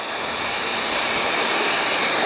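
Steady roaring hiss of a heat gun warming an adhesive RV decal, close and loud, holding an even broadband rush throughout with no pauses.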